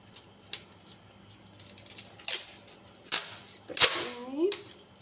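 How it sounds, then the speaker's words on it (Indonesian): Packing tape is stretched and pressed over the lid of a specimen carrier box in several short, sharp crackling bursts, each a loud rip or snap with quieter rustling between them, close by. "spesimen karier ini kita tutup dengan lakban."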